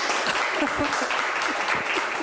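An audience claps after an imitation at a cultural talk show, with steady, moderately loud applause and a few overlapping voices mixed in.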